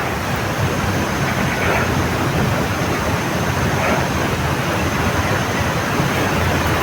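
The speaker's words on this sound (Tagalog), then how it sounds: "Ang ulan na." Steady, dense hiss of heavy rain pours continuously, a broad rushing wash with no pauses.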